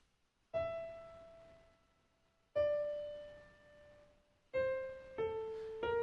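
Dry, unprocessed piano picks out a slow melody, single notes struck a couple of seconds apart and left to decay, then a quicker run of three notes near the end; quiet and close, with nothing else present.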